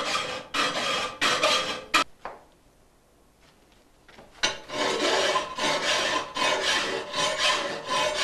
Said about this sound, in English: First, he does a rough filing.